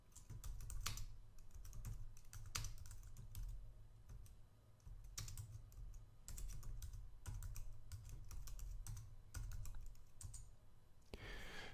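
A sudo grep command is typed on a computer keyboard as a steady run of close, quiet key clicks with irregular rhythm, over a low background hum and with no talking.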